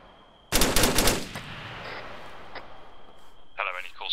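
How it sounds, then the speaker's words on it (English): In the military video game Arma 3, a burst of machine gun fire rattles out loudly for about a second, then fades, followed by radio-style voice chatter. "I want one machine gun on Party's right-hand side and one machine gun on my left-hand side"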